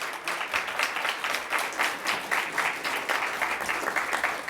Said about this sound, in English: Can we get a round of applause for all of the candidates?